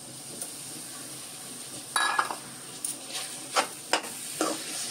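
Melted jaggery being stirred with freshly grated coconut in a pan for ukadiche modak filling: a low steady sizzle with several scraping, clinking strokes of a spoon against the pan, close and moderately loud, with no voices.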